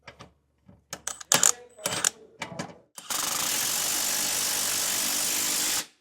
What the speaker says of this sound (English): we can install the nut and tighten it down with a 7/8 socket